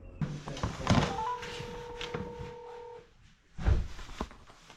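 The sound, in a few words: phone call being dialed repeatedly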